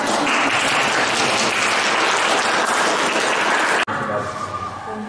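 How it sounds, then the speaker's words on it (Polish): An audience at the opening of a school workshop room at a primary school in Gdańsk claps steadily and loudly for about four seconds, a dense wash of applause that stops abruptly. "Także bardzo brawa."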